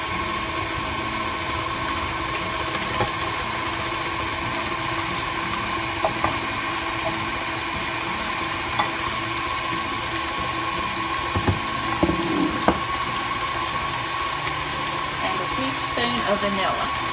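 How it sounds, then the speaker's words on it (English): Electric mixer whirring steadily as melted chocolate is blended into German chocolate cake batter, a continuous close motor hum with faint scraping knocks toward the end. "I want to blend in my melted chocolate."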